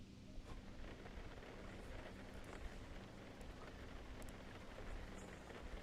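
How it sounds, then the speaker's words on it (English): Medium rain in the racing game Assetto Corsa Competizione at the Zolder circuit, a steady, dense wash of rainfall with no voices over it. "we're gonna go ahead, load in some medium rain"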